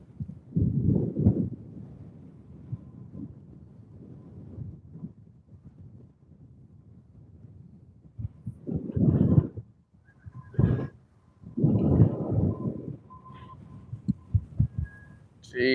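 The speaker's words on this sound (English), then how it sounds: "This wind will absolutely blow your eyebrows off." Strong wind at an outdoor dig site where glass and brick turn up in tilled ground, hitting the microphone in loud, low rumbling gusts that surge and drop, with a voice speaking briefly between blasts.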